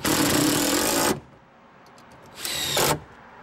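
A power sander works a panel on a 1994 Ford Explorer Limited in two loud, close bursts of high whirring grind, about a second first and then a shorter one, with a quiet gap between.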